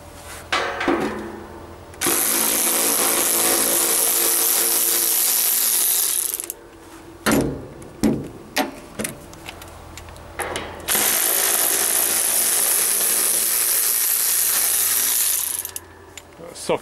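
Socket wrench with magnetic sides ratcheting bolts on a Copeland condenser, loud bursts of rapid clicking ratchet and metal work in two long stretches, separated by scattered knocks and clanks.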